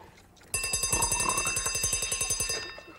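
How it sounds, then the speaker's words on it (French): A morning alarm clock suddenly starts ringing loud and close, its rapid metallic bell strikes holding for about two seconds before stopping abruptly. "C'est le réveil matin qui m'a réveillé?"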